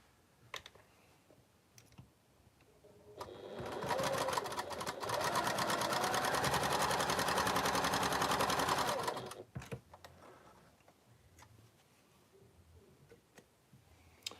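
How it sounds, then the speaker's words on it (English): A sewing machine runs a quarter-inch seam along one side of folded fabric, a rapid, even mechanical chatter lasting about six seconds, framed by quieter clicks and light handling noises before and after. "all I'm doing now is sewing a 1/4 of an inch along that one side"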